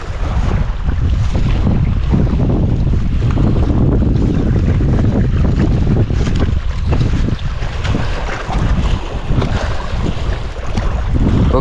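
Strong wind roars against the microphone while choppy waves slap around a small fishing boat on a lake in bad weather, a loud, constant rushing blast that runs unbroken for over ten seconds with no talk.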